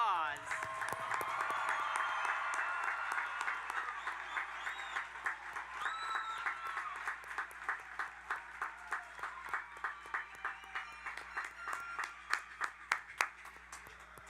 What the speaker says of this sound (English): Please join me in giving the graduates one last round of applause.